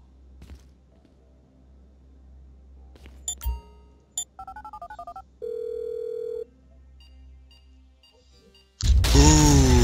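Phone dialing in the video game GTA V: a series of short keypad tones in a quick run, then a steady held tone, before a loud burst of noisy game sound at the end, with no talk.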